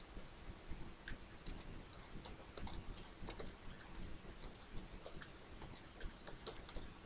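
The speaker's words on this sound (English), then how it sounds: "I'm not sure if I can type in all of this or not" Computer keyboard typing, a steady run of close, crisp key clicks in irregular bursts, fairly quiet and without any talking.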